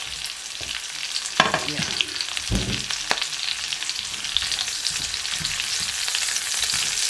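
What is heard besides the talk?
onion sautéing in a pan for bitter melon recipe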